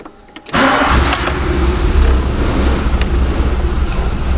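A cold van engine cranks and catches with a sudden roar, then runs at a loud, rough, steady rumble close by.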